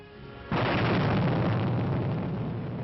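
A B-17 Flying Fortress bomber explodes while landing in 1944 newsreel footage. A sudden loud boom breaks out and then rolls on as a heavy, sustained roar with no voices over it.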